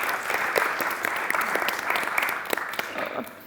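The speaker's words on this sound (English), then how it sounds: "please give a round of applause" An audience at a literature festival talk applauds, with steady dense clapping and scattered sharper claps running at even volume throughout.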